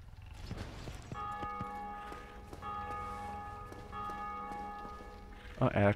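Church bell tolling in the video game Dark Souls Remastered, several resonant strokes with long ringing decay, heard moderately far off over faint footsteps and ambience.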